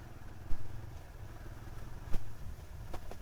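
A motorcycle rides through a narrow market lane in Kudal, a steady engine drone with a few sharp clatters and bumps, heard from on board with no talking.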